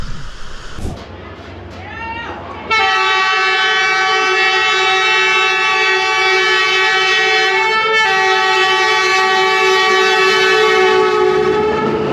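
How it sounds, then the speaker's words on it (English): A train rolls past close by through a very narrow street lined with homes and cafes, its long, loud horn blaring steadily for several seconds over the rumble of the cars. "Trains pass just inches from homes and cafes on this unbelievably narrow street"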